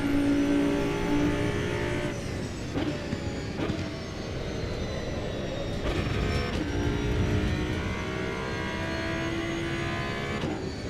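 A race car engine in Assetto Corsa EVO drones loudly and continuously, rising and falling through revs with several distinct stepped shifts, heard alone without talk.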